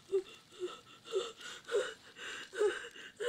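Panicked heavy breathing from the 1999 horror film The Blair Witch Project, a run of about seven sharp, ragged gasping breaths that come in a steady rhythm and sound close and strained, with no speech.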